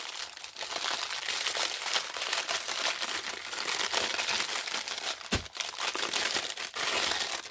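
A plastic bag crinkles and crackles steadily as Temu molds are unwrapped, close and continuous, with a sharper rustling burst partway through and no talking.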